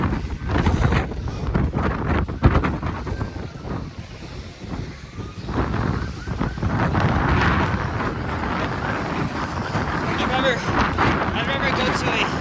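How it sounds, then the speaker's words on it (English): Strong gusty wind buffets the microphone outdoors on a Toronto street during a surprise spring snowfall, roaring loudly and steadily throughout with brief dips, while a person mutters and talks over it. "the wind has not been like this when I left my place"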